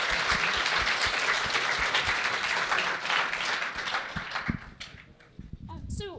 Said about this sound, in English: So let's have a round of applause for our panelists.